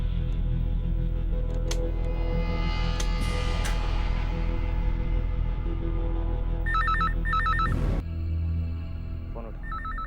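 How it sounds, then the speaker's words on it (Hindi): A telephone ringing in repeated electronic trilling bursts amid a tense dramatic music bed, with someone talking around it. "ये लड़की, चल फोन उठा, चल उठ,"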